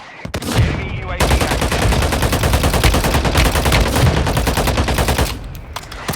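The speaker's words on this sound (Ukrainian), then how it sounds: "По ньому ще хтось стріляв." Gunfire in the mobile video game Warzone, a sustained rapid automatic burst lasting several seconds, loud and close, starting after a brief single shot and trailing off into scattered shots.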